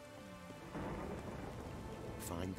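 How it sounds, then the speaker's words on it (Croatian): Rain and thunder in The Witcher 3: Wild Hunt: steady heavy rainfall swelling into a deep rumbling thunder roll, with a sharp crackle near the end. "Kako se čuje kiša ovdje?"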